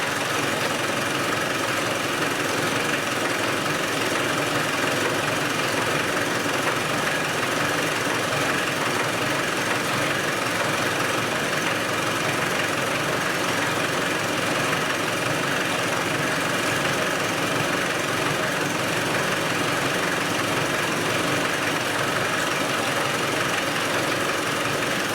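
Land Rover 110 engine running with the valve covers off, a loud, steady, dense mechanical clatter and rumble continuing throughout, near and unbroken, with no talking.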